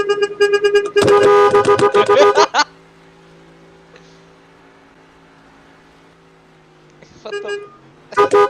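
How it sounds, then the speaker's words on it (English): A car horn honks in two loud, close bursts lasting about a second and a half, then falls away to a low hum, followed later by a shorter honk and the start of another blast. "Honk at me back."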